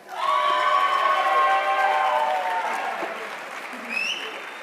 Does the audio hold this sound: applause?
yes